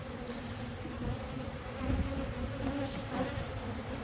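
Steady, dense buzzing of many bees fills the air, a close, continuous hum with no speech over it.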